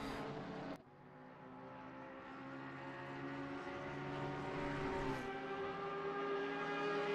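A Ferrari racing car engine in a racing video game screams down the straight at Monza, a sustained high-pitched wail with a brief gear-change dip early on, rising steadily and faint throughout.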